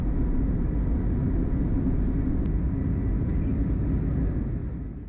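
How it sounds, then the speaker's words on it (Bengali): Airliner taking off from Delhi, a steady loud broadband engine roar and rumble heard from inside the cabin, continuous throughout and fading slightly at the end. "ফাইনালি আকাশে উড়াল দিল বিমান"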